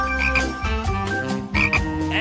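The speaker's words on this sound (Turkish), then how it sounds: "Uçakta kurbağa mı var?" A frog croaks loudly and close in a comedy sketch set on a plane, a run of rapid, throaty croaks in quick pulsing bursts with no talk over them.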